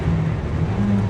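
A racing car engine holds full throttle down a back straight in a racing video game, a steady droning hum with a slight pitch rise near the end, loud and continuous with no talk.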